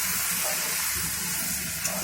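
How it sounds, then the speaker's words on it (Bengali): Spice paste frying in a wok with a splash of water added, giving a steady, even sizzle and hiss that stays close and continuous, with no voices. "কড়াইয়ে নিচে মশলাটা পুড়ে যাওয়ার সম্ভাবনা থাকে, তাই একটু জল দিয়ে মশলাটাকে ভালো করে কষিয়ে নেব।"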